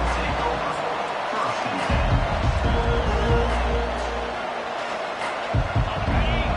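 A football stadium crowd roars as the defense takes the field, a dense, steady wall of massed voices that swells in places and carries across the whole stretch.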